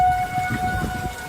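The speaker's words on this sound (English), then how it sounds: "There's the tornado sirens in Marion, Minnesota." A steady, sustained tornado siren tone wails in Marion, Minnesota during severe weather, over low rumbling background noise, held at an even pitch throughout.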